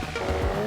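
Volkswagen Golf GTI pushed to the limit on a track, its engine droning steadily with a brief tire squeal or scrub, close and continuous with no voices.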